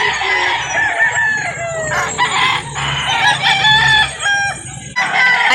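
Chickens and roosters at an outdoor poultry market in Calauan, Laguna, crow and cluck all around, with several overlapping close crows and a busy background murmur.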